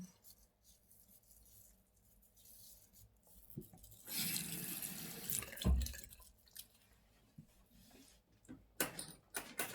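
Water runs at a bathroom sink while a face is rinsed with a sponge, with quiet drips, then a louder gush and splashing of water, and intermittent faint handling sounds.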